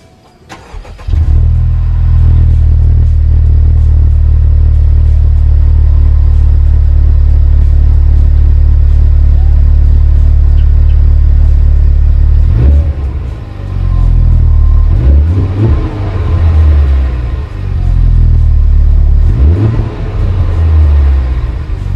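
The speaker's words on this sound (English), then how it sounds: "hit this beautiful red button here, and the car is on" A Honda Civic Type R fires up by push button in sport mode: a quick starter burst, then a deep, steady close-up idle rumble broken by several short revs, with no voices.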